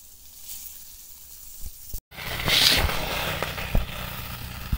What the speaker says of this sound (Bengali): বাকি মাছগুলোও এইভাবে ভেজে নেব।